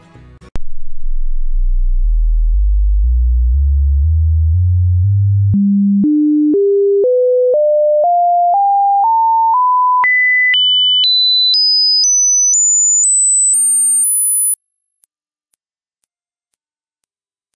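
Pure sine test tones at equal intensity, stepping upward in pitch from a low hum through mid beeps to a faint high whistle, each held briefly in a steady ascending sequence with no talk.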